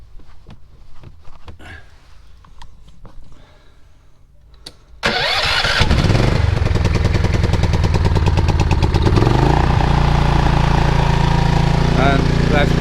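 A small engine with a choke, used to charge an off-grid battery bank, is started after some faint clicks and handling noises, then settles into a loud, steady running drone close by.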